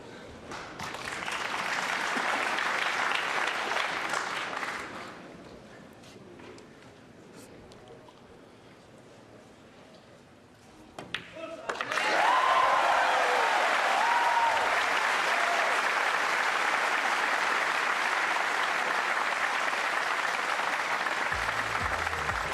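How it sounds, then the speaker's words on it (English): Audience applause at a 2006 World Pool Championship final between Alcano and Souquet: a sustained wash of clapping fades to quieter hall ambience, then a second loud burst of applause swells and holds steadily to the end. "The crowd approves"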